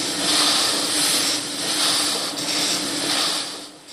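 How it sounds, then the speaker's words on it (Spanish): Antique piston engines run in an engine museum in Vista, California, near San Diego, giving a steady, loud, broad mechanical roar with a low hum and gently swelling surges throughout. "su sonido llena el Museo de Motores Antiguos en Vista, California"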